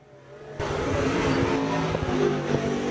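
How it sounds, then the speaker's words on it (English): Ford race car running a lap at the MODOC track, its engine swelling from a distant rumble into a loud, close roar that holds steady with revving fluctuations. "Ford U2 car is the first car in the 2nd group"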